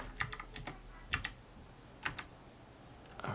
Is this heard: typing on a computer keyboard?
yes